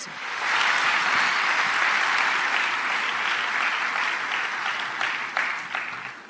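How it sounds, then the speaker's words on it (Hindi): Loud, sustained applause from a large audience welcoming a woman onto a stage at a business event, steady throughout with a slight fade at the end. "तो जोरदार तालियों के साथ please help me invite my beautiful wife Manjusha on the stage"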